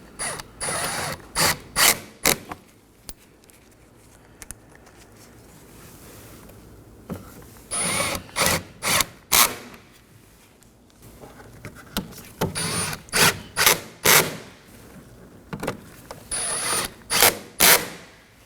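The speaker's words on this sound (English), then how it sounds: "For the upper cowl, we are going to reinstall our 4 T30 screws." Ratchet clicking in bursts as four T30 screws are tightened on the upper wiper cowl panel of a 2014-2023 Ford Transit Connect 2.5L, sharp close metallic ticks in repeated runs separated by pauses.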